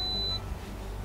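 A single high-pitched electronic beep sounds briefly at the start inside a Nissan e-NV200 electric campervan, then cuts off, leaving a low background hum.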